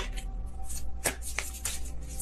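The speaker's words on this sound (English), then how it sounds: "Kind of sloppy shuffle there" Tarot cards shuffled by hand in a quick, loose riffle, with a few sharp flicks and slaps over steady papery rustling, close and fairly quiet with no talk.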